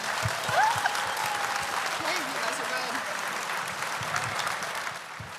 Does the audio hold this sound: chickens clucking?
no